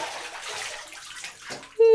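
Water sloshes and swishes steadily in a bathtub during a bath, a close, continuous wash of liquid that dips briefly before a short tonal vocal sound at the end.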